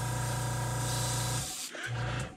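An airbrush sprays paint onto a fishing lure with a steady hiss and a compressor-like hum, then pauses briefly and resumes in a short second burst.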